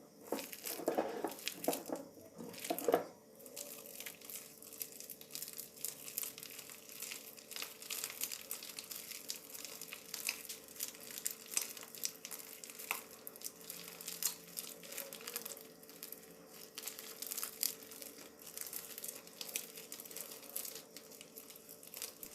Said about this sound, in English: I will play definitely right now with this crunchy slime until I activate it totally